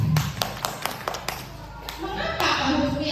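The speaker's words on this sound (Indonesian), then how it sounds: "tepuk tangan untuk Bu Mita" An audience claps for a teacher at a classroom session on positive school culture, a short spell of steady applause with voices underneath.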